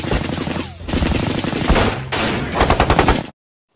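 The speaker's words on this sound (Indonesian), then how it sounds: "Serdadu Belanda menembaki tentara Indonesia hingga terpojok." Dutch soldiers fire rapid bursts of gunfire in a war battle scene, loud, dense and continuous in three close volleys before cutting off abruptly to silence.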